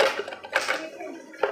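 A metal pot lid handled in a home, giving a few light clinks and scrapes with a brighter clang near the end, close and fairly quiet.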